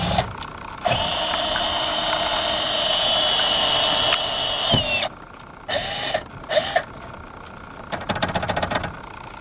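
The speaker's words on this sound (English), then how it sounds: "So you want to drill a hole." A power drill whirs loudly and continuously for several seconds, then stops, followed by a few short bursts and rattling clicks.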